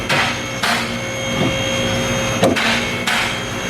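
Hammer strikes on a car's rear axle while fitting an FD rear grip kit, four sharp, close metallic blows at uneven intervals over a constant mechanical hum.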